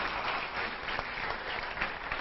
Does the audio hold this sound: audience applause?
yes